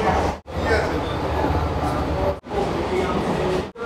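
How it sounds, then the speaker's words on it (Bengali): A Sealdah–Bangaon AC local train rumbles loudly into Majhergram station in a steady roar of wheels and carriages, broken by a few brief gaps, with a voice talking over it. "এই ট্রেন এবার ঢুকছে মাঝের গ্রাম"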